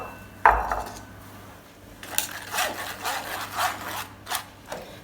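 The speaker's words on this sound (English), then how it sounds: "And then I am going to sieve the mixture" Cocoa and flour mixture being sieved for a moist chocolate cake made with malt beer, heard as a series of soft, scratchy rubbing and tapping bursts of a metal sieve. There is also a sharp clink near the start, with no talking.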